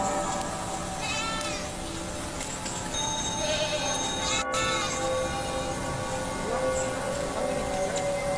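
A goat bleats several times in wavering, cry-like calls, moderately near, over a noisy outdoor background.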